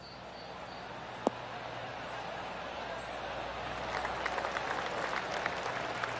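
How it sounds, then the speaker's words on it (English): A golf gallery in PGA Tour 2K23 at THE PLAYERS Championship gives polite applause: a single sharp click early on, then soft, distant clapping that swells over the final two seconds, quiet overall. "Oh, golf clap."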